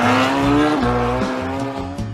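A motorcycle engine hums loud and close, its pitch wavering slightly as it rides through town.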